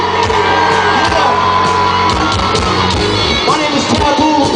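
A concert crowd in Atlanta screams and yells loudly and continuously over thumping music and booming bass, with whoops rising out of the din.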